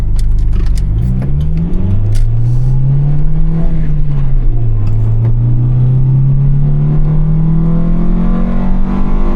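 A manual transmission car engine revs while driving, the pitch climbing, dipping at a gear change and then rising steadily again, loud and close with no talk.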